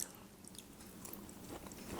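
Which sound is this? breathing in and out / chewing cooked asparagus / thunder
chewing cooked asparagus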